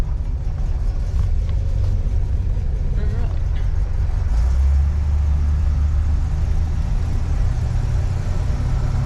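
A 1964 Rambler Ambassador Cross Country Wagon engine rumbles low and steady as the car drives slowly, with a brief spoken word over it.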